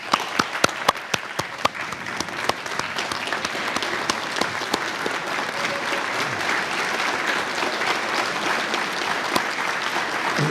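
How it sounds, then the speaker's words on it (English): A standing audience at an economic development corporation's annual meeting applauds the musicians, loud crisp clapping from many hands with sharp nearby claps, holding steady throughout with no speech. "give us another round of applause for the musicians and for Bethia."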